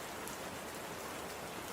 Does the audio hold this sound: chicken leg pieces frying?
no